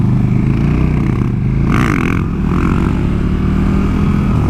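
A supermoto motorcycle engine roars loud and close as the rider pops a wheelie, the revs rising and falling over a continuous rough drone with a brief gritty scraping burst midway.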